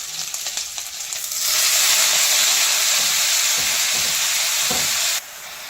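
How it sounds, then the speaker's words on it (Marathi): Garlic and green chilies dropped into hot oil for a tandulja greens stir-fry, a sudden loud sizzle that bursts in and hisses steadily for several seconds before cutting back to a softer crackle. "लसूण आपण भाजलेला आहे आणि त्याच्यामध्ये आपण मिरच्या टाकत आहोत"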